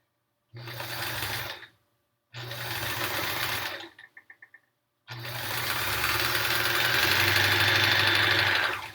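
A sewing machine stitches backing onto a Triangle Tango quilt in two short runs, then a few quick ticking clicks, then a long steady run that builds slightly in speed, loud and close with no talking.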